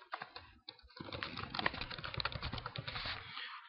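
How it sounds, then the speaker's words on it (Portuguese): Rapid typing on a computer keyboard, with steady close clicking of keys through most of the stretch after a brief pause near the start. "Para espaçar, como eu fiz aqui agora, ó, eu uso a barra de espaço do teclado."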